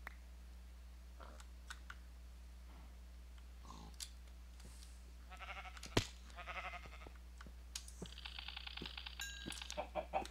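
Sheep bleat in Minecraft, played with the FTB Infinity Evolved modpack; the faint, brief bleats come mostly toward the end over quiet, scattered keyboard typing and clicks.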